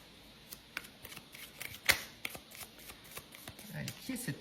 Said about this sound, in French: je vais tirer quelques cartes